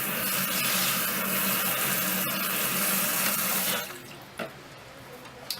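Water runs steadily from a tap as hair is soaked before shampooing, a loud, close broadband rush that cuts off near the end, leaving a quiet room with a couple of soft knocks.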